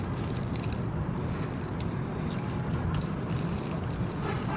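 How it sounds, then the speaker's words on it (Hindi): Wind gusts outdoors as a steady, rough rumble and hiss against the microphone, forming a constant broadband roar with no speech over it. "अभी हवा चलना स्टार्ट हो गई है"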